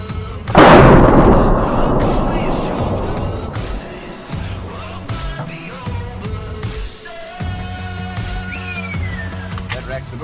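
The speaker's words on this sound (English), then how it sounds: "So for our last test today, we're gonna shoot a slug at it." A shotgun slug fired at a multi-hit bulletproof vest, one loud close blast with a long decaying rumble, followed by quieter handling noises and a faint tonal ring.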